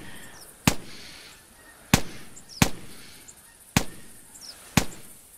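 Sharp shotgun blasts during a Canada goose hunt, five loud reports spaced about a second apart with quiet outdoor ambience between them.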